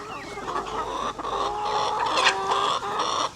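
Pet chickens cluck steadily at close range while being fed a snack of jackfruit, with overlapping calls and brief pauses throughout.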